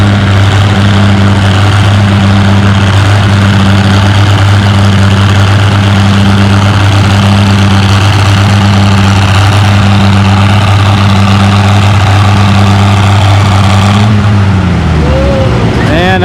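An Oliver 880 gas tractor working hard at a tractor pull, a loud, steady low engine drone with a pulsing throb that holds for about fourteen seconds, then winds down as the tractor stops.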